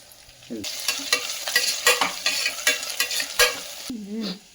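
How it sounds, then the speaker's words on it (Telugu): Whole shahi jeera, cumin seeds and cardamom pods frying and crackling in a pan of hot oil while a spoon stirs them. The scraping strokes come in a steady rhythm close up, with no talking. "ఈ సాజీరా, కొంచెం జీలకర్ర, ఇలాచి 4-5 కలిపి"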